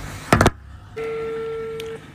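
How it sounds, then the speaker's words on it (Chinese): A telephone is dialed indoors: a short burst of tones, a brief pause, then a steady electronic tone held for about a second, faint and close. "不行，我得给他打电话"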